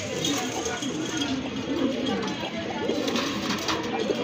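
Pigeons coo softly with low, rolling calls amid a steady background hum, while voices murmur nearby.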